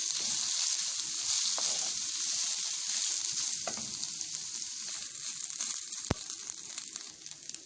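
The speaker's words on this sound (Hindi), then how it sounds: "अब हम इसमें श्रेडेड चिकन शामिल करेंगे," Shredded chicken fries with ginger garlic paste for spring roll filling, a steady hissing sizzle that fades slightly, with a couple of sharp stirring knocks near the end.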